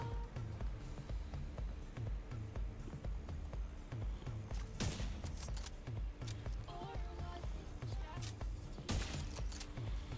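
Gunfire in The Division 2 as a character shoots at the ceiling: repeated sharp bursts over a dense, busy game mix with a constant low rumble and steady background noise.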